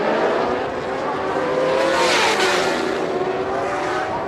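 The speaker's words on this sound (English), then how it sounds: "Howling down the straight up to the excess of 160 miles per hour" High-revving superbike engines scream down the straight at over 160 mph at Croft, a loud, continuous roar with rising and falling whine as the machines flash by.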